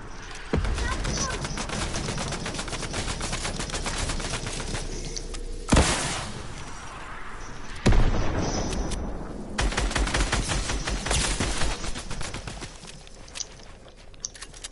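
Rapid gunfire in the video game Fortnite, dense bursts of automatic shots rattling over several seconds with brief pauses and a few sharper single blasts; loud and close.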